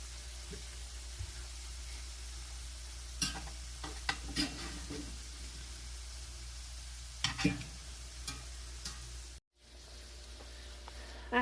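Salmon nuggets frying in a pan, a quiet continuous sizzle with a few scraping spatula strokes and clatters, a brief cut near the end.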